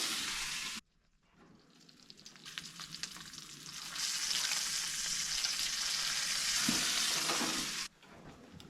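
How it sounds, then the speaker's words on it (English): Bacon sizzles loudly in a cast iron pan, the hiss swelling and holding steady for several seconds before cutting off, with quieter frying at the start and end. "Got our bacon in there sizzling all"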